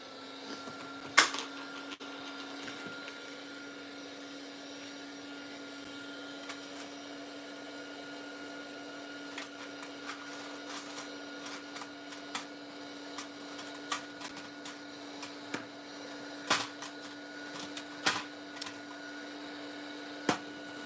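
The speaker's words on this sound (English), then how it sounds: "I will just dry it very quickly, and I will add colors and finishing touches to it." A heat drying tool blows on journal artwork with a steady, close whirring drone that runs the whole time, with faint scattered clicks and taps on top and no talking.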